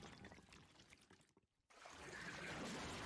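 A water effect from the Demon Slayer anime, season 3: a splashing, pouring rush that briefly drops to near silence, then swells back into a louder, sustained watery wash.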